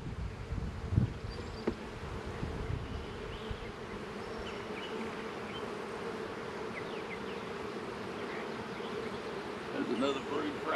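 Honey bees buzzing around brood frames being worked in a single-deep hive during spring setup, a steady close hum at low level with scattered handling knocks early on.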